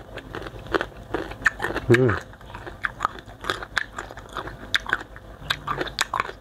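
Close, crisp bites and crunches of young green mango eaten with sweet fermented fish sauce, repeated irregularly with chewing between, while a person talks throughout.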